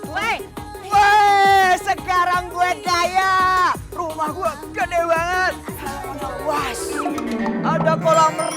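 A goat bleats in repeated wavering cries, fairly close, overlapping with people talking in a dramatized indoor scene.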